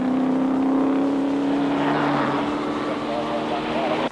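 Racing cars roar steadily at the 1969 Hardie-Ferodo 500 at Bathurst, with a Fiat rejoining the track; a loud continuous engine drone with rising and falling tones fills the scene, with a commentator's voice running over it.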